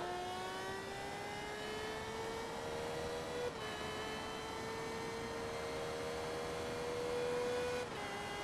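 Race car engine in the video game Forza Motorsport 2, held at a high, whining rev with a steady tone that climbs slightly, then a brief gear-shift dip before it carries on, loud and alone.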